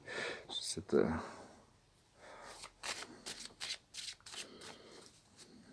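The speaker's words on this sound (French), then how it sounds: "Je vais tirer quelques cartes." Oracle cards being shuffled, with quick papery riffles and soft slaps in bursts, under someone speaking French.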